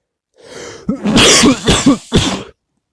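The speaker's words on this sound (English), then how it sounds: "Sorry for the cough." A few harsh coughs and throat-clearing bursts in quick succession, close and loud, with brief pauses between them, then silence.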